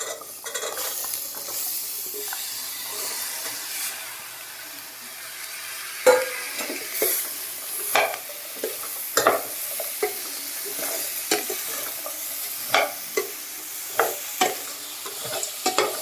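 Onion and chopped elephant foot yam being stir-fried in a pan, a steady low sizzle broken by repeated sharp scrapes and clinks of a spoon against the metal, coming in an irregular rhythm.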